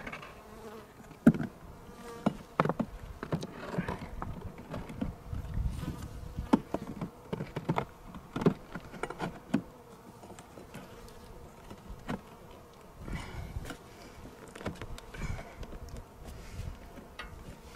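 Honey bees swarm around an open beehive during a first spring inspection in Colorado, a continuous close buzzing with individual bees droning past near the ear, under light handling noise and no speech.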